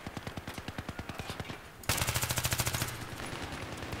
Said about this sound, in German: Hello Tricks hätte jetzt nicht so viele Schüsse verschenkt